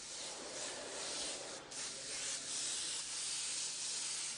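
Airbrush spraying an even layer of pearl paint from six to eight inches off the surface, a steady close airy hiss running throughout without pause.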